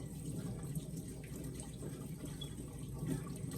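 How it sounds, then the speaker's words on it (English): Hands being washed under a running kitchen tap, a steady close rush of water with faint splashing and no talking. "About to wash my hands."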